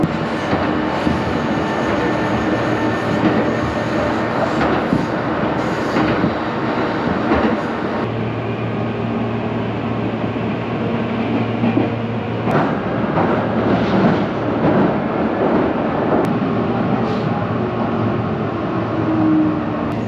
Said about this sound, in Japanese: そして乗ってきた電車西尾駅の方に到着いたしました